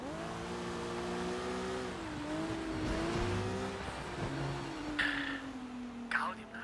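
A car in the video game Sleeping Dogs drives with a steady engine drone that rises and dips as it revs and shifts, joined by a couple of sharp knocks near the end.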